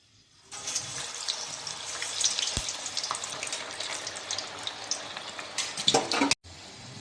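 Pearl millet vadas dropped into hot oil and deep-frying over a high flame, a sudden burst of dense bubbling sizzle that stays loud and steady, then cuts off abruptly near the end.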